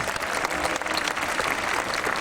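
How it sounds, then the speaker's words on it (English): Audience applause fills an outdoor SeaWorld San Diego marine show arena, a dense, steady wash of clapping from a large crowd that holds at even loudness for the whole stretch, with no talk over it. "Let's give Robert another big round of applause."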